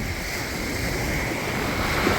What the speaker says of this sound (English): the waves are up here wearing everything away, eroding everything